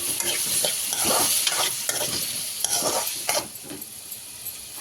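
Chopped tomatoes fry in hot oil for a coriander tomato chutney, a close, busy sizzle broken by several quick scraping stirs of a spoon against the pan.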